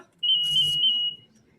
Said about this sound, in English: It's just my new pager.